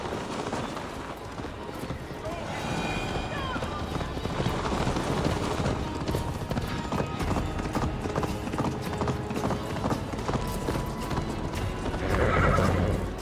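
Hooves pound in a steady gallop in Assassin's Creed Valhalla, with a horse whinnying and snorting along the way, loud and continuous throughout.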